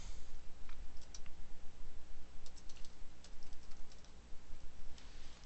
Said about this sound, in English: And I'm going to type my name.